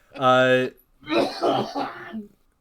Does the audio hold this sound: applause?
no